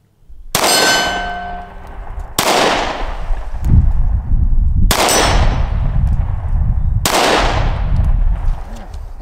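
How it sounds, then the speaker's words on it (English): Four loud, sharp gunshots from an SCCY CPX2 pistol crack at an outdoor range, each followed by a long ringing decay, evenly spaced about two seconds apart with one clanging hit on a steel plate. "So let's load her up again, do a little bit more shooting."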